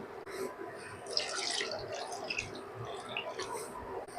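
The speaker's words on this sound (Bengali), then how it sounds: "এবার আমি জল দিয়ে দেবো" Warm water pours into a pan of chana masala curry with chickpeas, making a soft, steady trickle and splash with wet bubbling that sits fairly quiet and close throughout.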